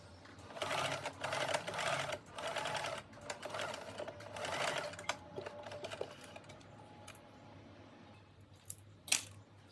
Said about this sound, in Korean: 그 부분은 디카라와 연결해서 박음질 해줍니다.